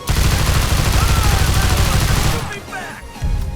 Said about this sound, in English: We'll go for a Gusenberg sweeper.